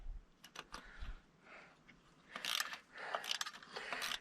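A ratchet clicks in short, uneven bursts, loosening intake bolts on a 352 Ford engine. The metallic ratcheting sounds close and fairly quiet.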